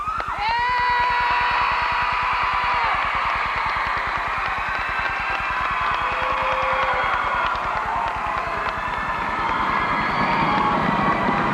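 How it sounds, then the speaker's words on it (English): A gym full of high school students screams and cheers loudly for a girls' team, a sustained roar of shrill shouts and whoops that rises and falls without a break. "Can I hear how loud you can scream for these gals?"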